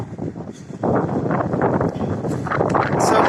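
Strong wind gusts roar across open land on a cold winter day, a steady broadband rush that swells louder after the first second and keeps buffeting the microphone.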